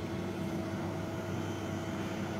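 Qatar Airways Boeing 777F cargo aircraft at Lombok airport, heard as a steady, loud broadband engine roar that holds constant throughout, with no voices.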